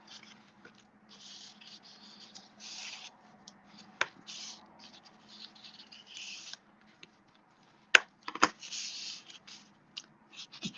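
Folded paper corners of a mini album get burnished with soft, close rubbing and scraping strokes in short intermittent bursts, plus a couple of sharp taps, with no talking.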